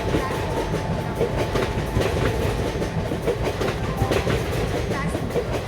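A train rolls into a platform in an Indian railway game, with rhythmic clickety-clack of wheels over rail joints and a steady rumble throughout, loud and near.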